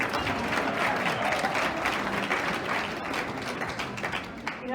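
Audience at a retirement celebration for a chapel choir conductor at the Washington Duke, clapping steadily and densely throughout, near and moderately loud.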